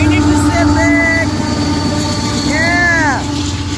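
A long westbound Union Pacific mixed freight train passes close by on a rainy day in Texas, with a loud continuous rumble of rolling cars and sharp wheel squeals rising and bending above it, no talk over it.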